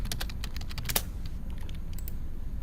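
Rapid keystrokes on a computer keyboard while entering labels in process simulation software, a quick close burst of clicks followed by a few sparser taps over a low steady background hum.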